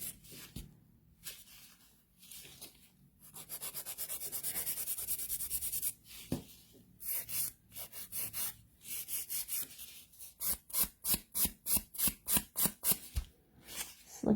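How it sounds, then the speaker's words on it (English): A nail file works over a sculpted gel nail during the finishing stage, giving bursts of dry rasping strokes, first long sustained rubs, then a quick run of short, rhythmic back-and-forth passes, close and alone. "The finishing filing stage."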